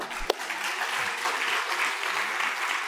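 Audience applauding at a low-carb nutrition conference in Houston as a speaker is introduced, steady moderate clapping from a seated crowd in a hall, with one sharp clap standing out near the start.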